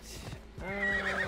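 Horse whinnying in Assassin's Creed Odyssey, a short, close, loud neigh after a couple of soft hoof clops, heard alone.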